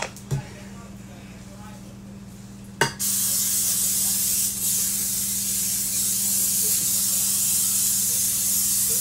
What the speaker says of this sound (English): I'm going to spray my pan, my Pyrex pan.